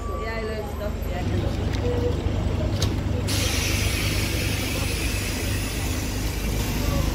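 A Stagecoach bus, registration NK56 EPU, pulls in on route 334 with a sharp air-brake hiss cutting in partway through, over steady engine rumble and street noise.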